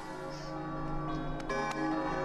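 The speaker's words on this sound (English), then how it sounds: "The bell!" A bell rings in Kingdom Hearts Re:Chain of Memories at Traverse Town, sustained church-like tones with a couple of sharp strikes ringing over soft game music.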